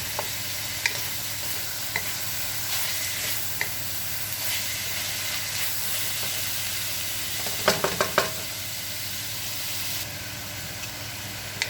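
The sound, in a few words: sautéing cabbage and vegetables sizzling in a pan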